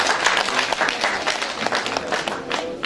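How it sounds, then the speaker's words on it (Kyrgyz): Audience at a singer's first concert evening applauding, a steady dense patter of many hands close by for the whole stretch, no voices. "Кол чаап коштотурабыз"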